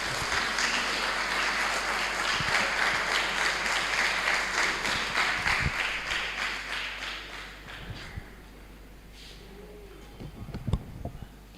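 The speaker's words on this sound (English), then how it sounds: "Please give a round of applause for Nigel Kerr." A graduation audience applauds the head boy of a Year 13 graduating class, a sustained wash of clapping that fades after about eight seconds, leaving a few scattered claps and small knocks near the end.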